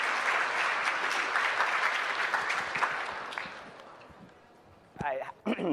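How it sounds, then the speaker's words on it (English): Conference audience applause welcoming a speaker, dense sustained clapping for about four seconds that fades out, followed by a voice speaking. "help me give him a big welcome round of applause"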